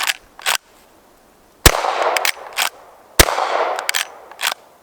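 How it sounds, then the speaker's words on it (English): Several sharp rifle shots from a Rossi R92 lever-action chambered in .38 Special, fired outdoors at a target range: loud, close cracks spaced a second or so apart, each trailing a brief burst of echo or lever clatter, with no talking. "I got the R92 loaded up with the 38 Special. So I'm going to take a couple shots first"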